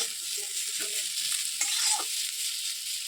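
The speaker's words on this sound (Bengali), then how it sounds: "এদিকে আমি পেঁয়াজটাকে দিয়ে দিয়েছি এটা একটু হালকা লাল ব্রাউনি ভাজা ভাজা করব আমরা" Onion fries in a pan for chowmein, making a steady close sizzle with short stirring scrapes over it and no talking.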